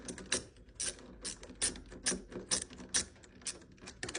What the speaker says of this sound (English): You're gonna remove these screws.